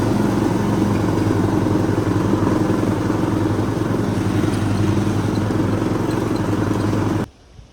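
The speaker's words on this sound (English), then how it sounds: "I'm now going to jump on the customer's mower. He's got a small Husqvarna mower" Small Husqvarna lawn mower engine running close by, a loud steady rattling drone with fast even firing pulses that holds constant before suddenly cutting out near the end.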